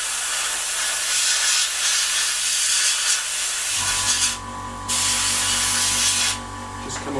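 An airbrush sprays paint on a 1/32 scale F-14D Tomcat model kit, a close steady hiss that drops out twice in short gaps before resuming, with a faint hum beneath.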